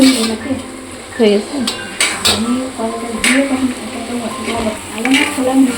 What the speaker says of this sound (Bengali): এখানে পালং আর ছোলার শাক মিক্সড করে রান্না করা হচ্ছে